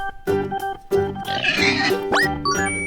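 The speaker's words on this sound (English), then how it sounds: "Pig." A farm-animal toy sound plays a pig's grunts and oinks over a steady musical backing, several close, loud calls in a row with a rising squeal near the end.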